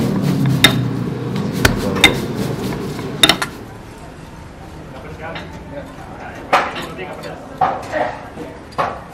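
A dough grinding machine runs in a hot kebab kitchen, its low mechanical drone giving way to scattered metallic clanks and knocks, with voices talking nearby.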